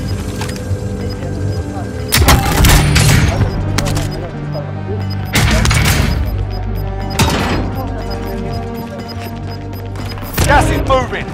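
Bursts of gunfire and explosive booms from Call of Duty Warzone gameplay erupt in several loud clusters, with lighter shots and a sustained game background between them; a voice is heard speaking.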